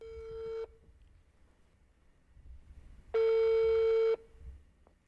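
A telephone tone sounds on a call to a colleague: a short steady beep, a pause, then a longer one-second tone, clear and close against quiet background.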